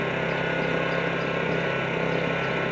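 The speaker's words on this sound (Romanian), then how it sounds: "în interiorul suprastructurii se află generatorul electric care funcționează la o tensiune de ieșire 230 de V, aceasta fiind un motor în 4 timp" A four-stroke 230 V electric generator mounted inside a fire truck's superstructure runs at a steady idle, a constant droning hum with even vibration and no speech.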